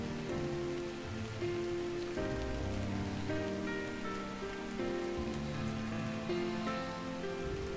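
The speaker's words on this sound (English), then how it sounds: "I woke to a morning of light drizzle" Light drizzle falls in the walking video game Drizzlepath: Genie, a soft, even patter of rain on surfaces that holds steady throughout, with gentle sustained tones layered underneath.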